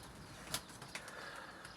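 Tumbler pigeons flap their wings in flight, giving a faint distant fluttering with a couple of brief sharper wingbeats against quiet outdoor background.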